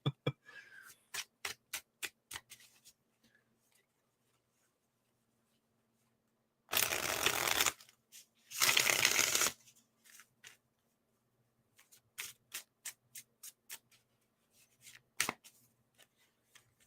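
Tarot cards are shuffled in two quick riffling bursts, surrounded by scattered light taps and clicks of cards being handled.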